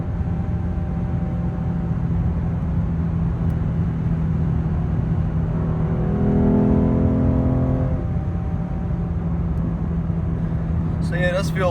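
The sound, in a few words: 2017 Lexus IS 350 engine with RR Racing tune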